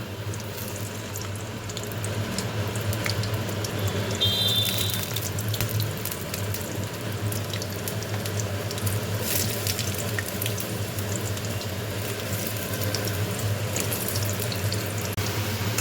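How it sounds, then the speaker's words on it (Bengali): Potatoes fry in hot oil in a kadai with an even, rushing sizzle that holds steady throughout, close and moderately loud, with no voices over it. "আমার আলু ভাজা হয়ে গেল"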